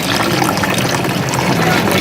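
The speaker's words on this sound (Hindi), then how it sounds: "ऊपर से पानी गिर रही है" Water pours steadily inside a small homemade room cooler driven by a pump motor, making a continuous close splashing trickle with no pauses.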